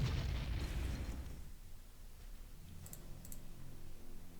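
A rumbling blast from the Panzer Corps Gold war game opens loud and fades over about a second and a half into a low, steady battle rumble with a few faint crackles, and no one speaks.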